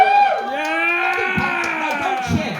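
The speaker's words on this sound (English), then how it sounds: "Don't cheer. That's a sad occasion." A stand-up comedy audience at an outdoor show by the Stour whoops and cheers loudly, with raised voices and shouts rising and falling for a couple of seconds before it settles into scattered calls.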